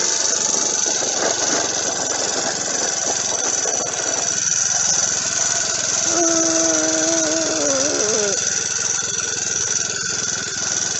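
A 53cc four-stroke motorized bicycle engine runs loudly and steadily at close range on its first start, a constant buzzing drone with a brief rising tone partway through and no voices.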